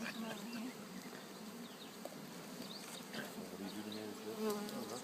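Many bees hum and buzz steadily around an opened beehive, a dense swarm drone heard close up with faint background stirrings.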